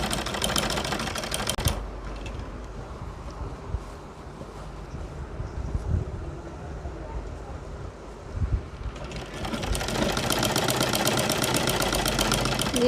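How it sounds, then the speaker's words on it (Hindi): A sewing machine stitching a boat-neck kurti sleeve, its rapid mechanical clatter running loud and steady at the start and again toward the end, with quieter handling of the fabric between. "फिर उसके बाद इसी के ऊपर से वो मोड़ बराबर रख देंगे और सिलाई लगा लेंगे।"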